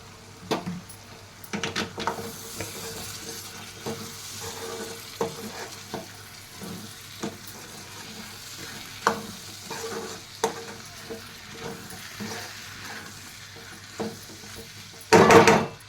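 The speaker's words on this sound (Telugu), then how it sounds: "ఇలా ఆయిల్ పైకి వచ్చాక ఇలా ఇప్పుడు మనం ఉడికించిన శనగల్ని వేసుకోవాలి" Boiled chickpeas fry in hot oil for chole masala while a spoon scrapes and knocks against the pan at irregular intervals over a soft, continuous sizzle, ending with a louder clatter of the pan.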